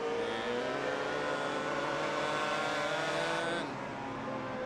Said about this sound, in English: You hear that engine, and you know when it gets to a certain pitch, you let off.